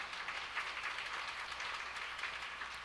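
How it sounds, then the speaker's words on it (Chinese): A church congregation at a Sunday worship service applauds to welcome guests, a dense, even patter of many hands clapping at moderate distance, sustained throughout without voices. "拍手欢迎，来欢迎他们哈"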